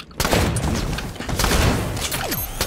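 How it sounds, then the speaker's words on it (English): A sniper rifle fires in a first-person shooter game: a sudden loud crack sets off a dense burst of booming, echoing gunfire and impact noise. It fades into rumble, and a short descending whine follows near the end. "Oh, he sniped me."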